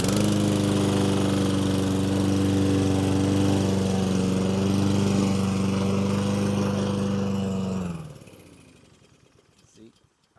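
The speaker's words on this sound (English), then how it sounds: "I'm gonna turn the lawnmower on and do it to see if it's easier." A lawn mower engine runs loud and close with a steady chugging drone while pulling a Scotts core aerator wheel, then cuts off and sputters to silence near the end.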